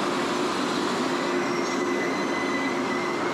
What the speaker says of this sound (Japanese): 本日乗る高速列車が到着しました。